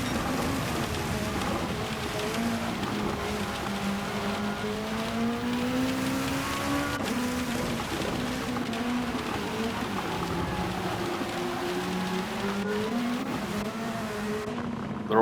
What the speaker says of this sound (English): Hear the rain hitting that car.